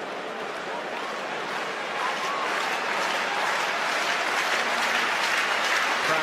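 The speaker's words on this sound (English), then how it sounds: "Crowd as animated as they've been at any stage during the evening." A football stadium crowd cheers and applauds during an evening match, a dense, continuous roar of clapping and shouting that swells a little louder as it goes on.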